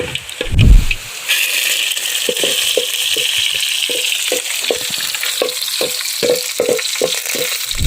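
Mustard seeds hit hot oil with a loud splash at the start, then settle into a steady sizzle with regular light stirring scrapes, for a tapioca and chicken gravy.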